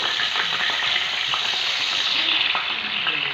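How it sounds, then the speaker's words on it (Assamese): Two spoons of ground mustard paste fry in a kadhai for a drumstick dish, giving a loud, steady hiss of sizzling oil with small crackles and occasional light stirring clinks throughout. "এতিয়া এইখন কেৰাহীতে মই ইয়াত পেষ্ট কৰি লোৱা 2 চামুচ সৰিয়হ দি দিছোঁ"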